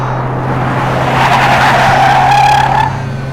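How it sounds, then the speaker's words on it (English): A car's tires screech and skid as it careens around a tight bend in the road, a loud sustained squeal that swells toward the middle and holds under a steady engine hum, with no voices. "tires screeching, gears grinding. I careened around a tight bend in the road."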